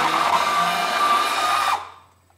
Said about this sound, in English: Okay, we're grinding.